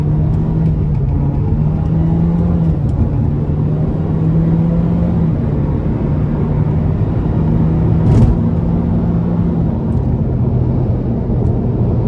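A 2013 Nissan Juke SL AWD with a CVT accelerates onto an interstate, its engine droning steadily from inside the cabin with a low hum that shifts pitch and constant road rumble.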